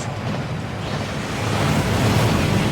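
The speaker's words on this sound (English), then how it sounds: "That waterfall washes away all enchantments." A waterfall inside the Gringotts vaults in the video game Hogwarts Legacy: a dense, continuous rush of falling water that thickens and grows a little louder toward the end.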